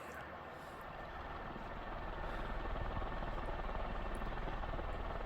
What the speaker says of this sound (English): Pretty decent performing fan.